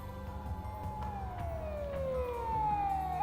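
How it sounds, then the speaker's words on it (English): A police car siren wails in the Steins;Gate video game, a rising and falling electronic tone sweeping steadily over a low background hum, with no talking. "a shrill siren shatters the night"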